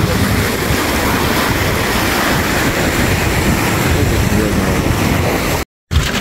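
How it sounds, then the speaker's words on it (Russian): Waves crash and surge in a strong wind, a loud, continuous roar of surf and gusts that cuts out for a moment just before the end. "Ох, волны какие. Как в настоящем море."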